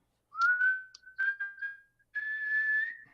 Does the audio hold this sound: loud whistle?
yes